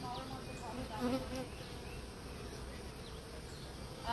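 Honey bees buzz around hive boxes in a steady, moderately faint swarm drone that carries on throughout, with a faint voice briefly in the background.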